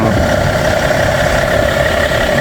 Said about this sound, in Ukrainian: Наскільки тихо і рівно працює двигун просто.